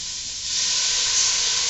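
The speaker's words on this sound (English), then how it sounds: "we're gonna deglaze the sausage and pepper, onion, and olive, some white wine." White wine hisses and sizzles steadily in a hot pan of sausage, pepper, onion, olive and artichoke, a loud, dense spray of steam that swells slightly and holds without pause.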